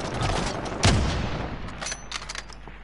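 Gunfire in Call of Duty: one sharp, loud shot stands out, followed by a scatter of fainter distant bursts over a low background rumble.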